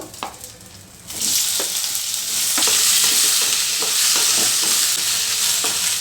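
Loud, steady sizzling of okra frying in hot oil in a pan, starting suddenly and continuing with occasional stirring clicks.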